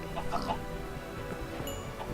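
A Minecraft chicken clucks on a sky island farm, a few short, close clucks over a steady background of game ambience and music.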